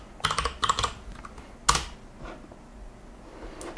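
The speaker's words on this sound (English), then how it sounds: "So open up your internet browser and type in Lazesoft." Keystrokes on a computer keyboard as someone types into a web browser search: a quick burst of clicks, a short pause, another cluster, then one sharp louder tap and a few faint trailing keys, close and with no talking.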